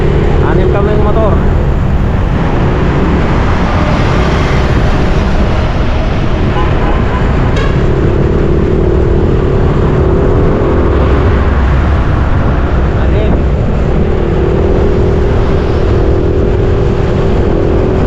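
Six motorcycles riding together on the road toward Pampanga, a steady blend of engine drone and wind rush with a few revs rising and falling over eighteen seconds, with voices talking over it at times.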